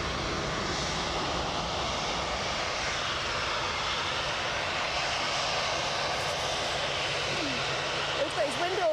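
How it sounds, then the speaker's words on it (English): An EasyJet airliner arriving from London Luton at Edinburgh gives a sustained, loud engine roar throughout, with a voice speaking faintly near the end. "An EasyJet coming in"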